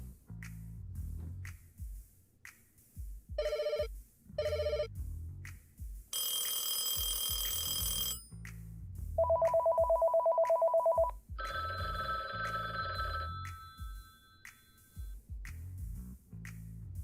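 A telephone ringing in a series of electronic ringtone bursts of varying pitch and pattern, some short and repeated, others sustained, fairly quiet and with no speech.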